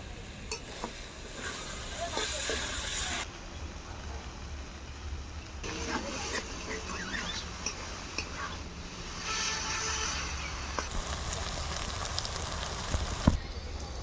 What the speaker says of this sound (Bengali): শাকটাকে হালকা আগে ভাজতে হবে বেশি আঁচ দিলে পুড়ে যাবে শাকটা